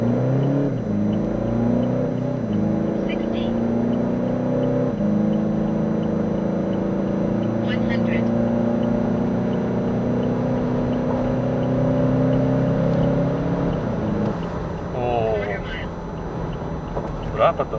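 A tuned Toyota Fortuner 2.4 diesel accelerates hard from 2000 RPM, its engine note droning steadily and rising in pitch for about thirteen seconds before it eases off, with some road and wind noise mixed in.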